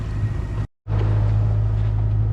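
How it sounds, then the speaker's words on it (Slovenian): On a windless open-sea passage near the Galapagos, a sailboat motors along under its engine, a steady low drone with a constant hum, briefly cut to silence before resuming at the same level. "Mi pa moramo nadaljevati teh zadnjih 6 ur na motor, ker ni čisto nič vetra."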